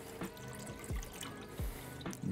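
About half a litre of coconut drink pours into a pot in a kitchen, a soft continuous liquid splashing and gurgling, close but quiet.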